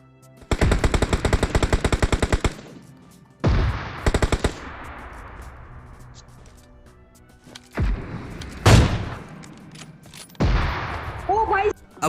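Gunfire in the mobile game PUBG Mobile: loud, close bursts of rapid automatic fire, several strings of shots separated by short pauses, with a few heavier single shots among them.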